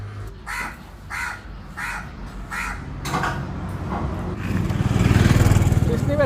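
Several crow caws ring out in a steady run over a rumbling motor and background chatter near Shivamogga, Karnataka, followed by louder mechanical noise.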